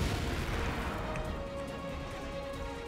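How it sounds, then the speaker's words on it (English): Missile units in a Star Wars: Empire at War mod battle fire and explode in a continuous low rumble of blasts and booms, moderately loud and sustained without a break. "Those missile units are pretty damn good."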